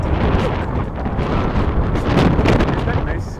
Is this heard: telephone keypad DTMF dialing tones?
no